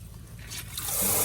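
Water bursting from a cracked male adapter fitting in a double city meter box after the supply is turned on, a hissing, spraying rush that swells and grows louder, with no talk.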